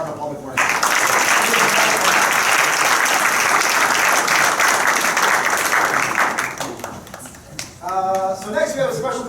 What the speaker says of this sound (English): let's hear a real quick round of applause for our entire Department of Public Works